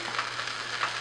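Potatoes sizzle in hot coconut oil in a pan, a steady close crackle of frying with a few brief louder spits and no talking.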